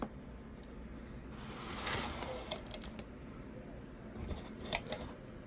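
A blade slices through packing tape on a fully taped cardboard box, giving short scraping, ripping bursts over a quiet room background.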